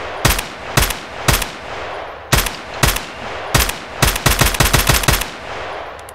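M4 assault rifle fired in the video game Escape From Tarkov with a night vision scope, loud and close: several single shots spaced apart, then quick rapid bursts crowding together near the end.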